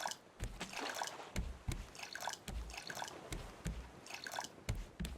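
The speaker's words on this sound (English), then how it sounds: "And then we have to water." Crops being watered in the Raft survival video game: soft splashing and dripping water bursts repeating several times, quiet and close, with no talk over them.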